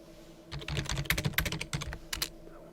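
Fast, irregular keyboard typing clatters up close for about two seconds, a dense run of light key clicks with brief pauses, and no voices.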